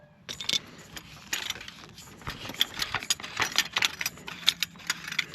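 A wrench loosens and unscrews an irrigation pipe fitting beside a wagon in a cabbage and Brussels sprout field, giving faint, close, irregular metallic clinks and rattles with no talking.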